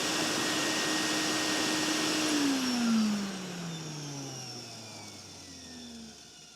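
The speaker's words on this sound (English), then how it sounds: "the regular Olympia over the Olympia Special? I'm not exactly sure. Just turning this on. Let's just let it run for a second." An Electrolux Olympia vacuum cleaner, older and rebuilt down to its motor, runs with a steady loud whooshing roar and a whining motor tone that sags slightly lower near the end, heard alone and close up.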